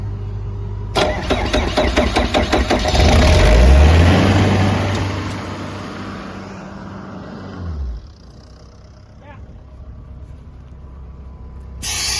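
A combine harvester's diesel engine with a weak solenoid cranks with rapid rhythmic chugging, catches and revs loudly, then drops back to a steadier running rumble.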